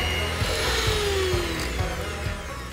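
An electric hand mixer whirs steadily as it beats coconut oil and muscovado sugar in a bowl, giving a close, even motor whine with a soft repeating thump from the beaters.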